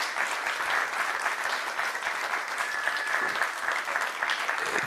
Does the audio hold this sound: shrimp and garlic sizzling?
no